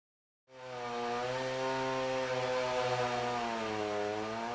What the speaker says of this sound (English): Cut each 4 by 8 sheet of plywood into 4 pieces that measure 1 foot by 8 foot.